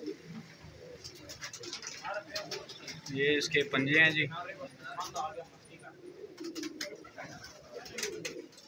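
Fancy pigeons coo repeatedly in rounded, throaty bursts at a pigeon market on Jamia Masjid Road in Rawalpindi, loudest midway, with someone talking close by and other birds chirping in the background.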